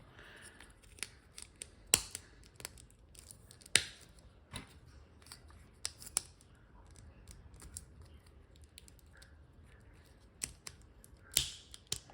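Sharp plastic clicks and snaps of tight-fitting, unused Lego bricks from a 1996 set at irregular intervals, some crisp and loud, others faint, with quiet handling noise between them.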